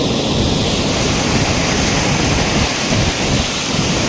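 Loud, constant roar of water rushing with heavy force from the open gates of Dantiwada Dam into the river, dense and unbroken, with no voices.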